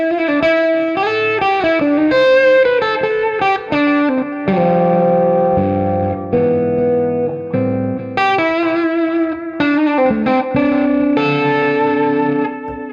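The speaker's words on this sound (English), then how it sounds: "So now it's guitar, little echo," An electric guitar played through an echo delay of about 420 milliseconds and an amp gives a loud, sustained melodic line, with each note trailing repeats and the tone warm with mild distortion. No speech is heard.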